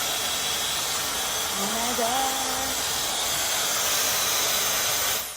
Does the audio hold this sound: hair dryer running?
yes